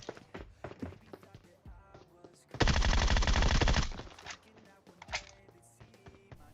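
Automatic gunfire in the mobile battle-royale game PUBG Mobile: one loud, sustained burst of rapid shots lasting over a second, set among quieter in-game footsteps and clatter before and after.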